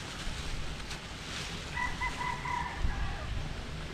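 A rooster crows faintly in the distance over a constant background hum in the Philippine countryside, one drawn-out call standing out from the noise.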